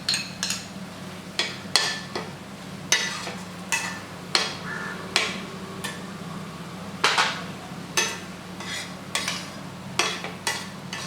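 Onions and tomatoes sauté in a pan for a crab kuzhambu, heard as a low steady sizzle broken by regular sharp scrapes and clinks of a spoon stirring against the pan, close and with no talk.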